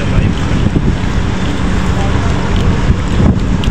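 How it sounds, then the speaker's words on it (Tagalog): Strong wind roars across a ship pier at the Port of Lucena, a dense continuous rush buffeting the microphone loudly and steadily throughout. "Lakas ng hangin."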